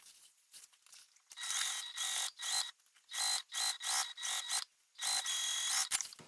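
A domestic sewing machine stitches a seam across a fabric bag panel, running in several short, even bursts of rapid mechanical clatter separated by brief pauses, close and fairly loud with no talking.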